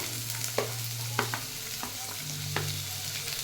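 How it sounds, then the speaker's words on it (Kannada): Onion fries in oil with mustard seeds and cumin, a steady sizzle broken by several sharp spatula stirs and scrapes close by, no talk. "ಈರುಳ್ಳಿ ಜಾಸ್ತಿ ಫ್ರೈ ಆಗಬೇಕಂತಿಲ್ಲ, ಸ್ವಲ್ಪ ಹೊತ್ತು ಫ್ರೈ ಆದರೆ ಸಾಕು"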